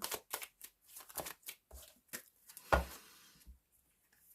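Angel oracle cards shuffled by hand, a quick run of soft papery riffles and flicks with short pauses and one firmer tap near the end, close and fairly quiet.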